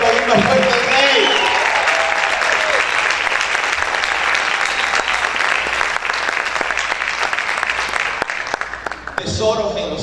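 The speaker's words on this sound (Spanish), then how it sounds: "¿Cuántos pueden aplaudir más fuerte al Rey?" A church congregation at a fasting service applauds loudly and steadily for about nine seconds, dense clapping filling the room before it cuts off abruptly.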